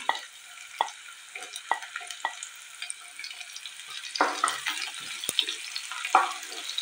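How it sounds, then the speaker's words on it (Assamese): Chopped onions frying in a pan with panch phoron and a small piece of cinnamon, a steady close sizzle broken by repeated scrapes and stirs of a spoon, without talk. "পিঁয়াজখিনি ভালদৰে ভাজি ল'ম।"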